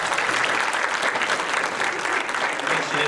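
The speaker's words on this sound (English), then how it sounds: "If y'all could give her a round of applause." A crowd claps steadily at a candidate forum held in a church, a dense, loud round of applause with no pauses.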